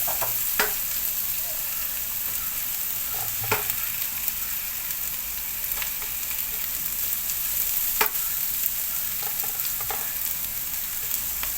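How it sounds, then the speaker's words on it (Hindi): Carrot, onion, cabbage and spring onion stir-fried together for street-style chicken fried rice, a loud continuous sizzle with occasional sharp scrapes and clanks as the vegetables are tossed and mixed. "ये गया गाजर, ये प्याज, ये कैबिज, ये हरी प्याज, और इसको कर लेंगे अच्छे से मिक्स"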